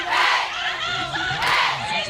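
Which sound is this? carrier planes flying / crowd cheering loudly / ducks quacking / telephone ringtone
crowd cheering loudly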